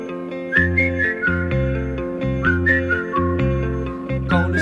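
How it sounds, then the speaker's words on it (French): A person whistles a bright, clear tune in short melodic phrases over steady instrumental accompaniment in a French song, with the whistle loud and prominent throughout. "quand rien ne va, je siffle ça"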